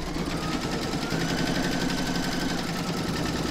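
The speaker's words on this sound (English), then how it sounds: "You're now going to put that back into your machine and stitch round number 5" An embroidery machine stitches a round in the hoop, with a fast, even mechanical whirring and rapid needle rhythm, close and constant for the whole stretch.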